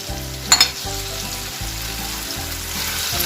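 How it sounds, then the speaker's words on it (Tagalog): Pork liver sizzling and frying in a hot pan for kilawin, a steady loud crackle throughout with a couple of sharp clinks near the start, no talking. "Pagkatapos ng 1 minuto, ilagay ang pork liver."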